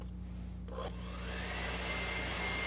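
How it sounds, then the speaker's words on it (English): A hair dryer blows over wet acrylic paint in a studio, a steady whooshing drone that rises and strengthens partway through and then holds, with no talking. "We're going to hair dry it."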